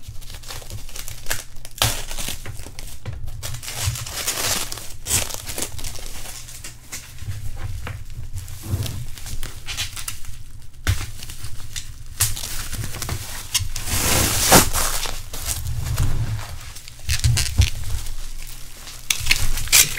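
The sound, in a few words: unwrapping packaged BGS graded card slabs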